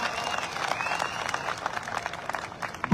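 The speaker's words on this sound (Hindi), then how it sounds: "पुराने लोगों के लिए ताली बजाओ जोरदार।" An audience at an AWPL gathering in Jodhpur, Rajasthan applauds, giving a dense burst of clapping with a few voices mixed in, fairly close and loud throughout.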